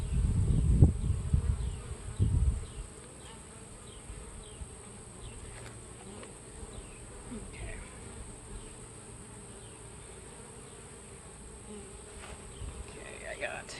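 Honeybees buzz around an open hive during an inspection, a steady, soft swarm drone with individual bees passing close, after a few loud handling thumps at the start.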